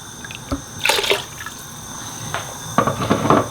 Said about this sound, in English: to pour all that lovely broth in there